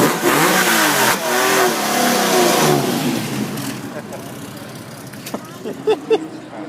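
A Lamborghini sports car at a castle car show revs its engine loudly, the tone rising and falling, then settles to a lower idle with a few sharp blips near the end while people talk nearby.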